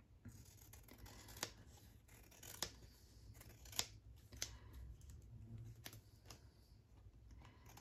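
Scissors cut craft material for a Christmas project, giving a few crisp, close snips spaced a second or so apart over a quiet room hush, with no talking.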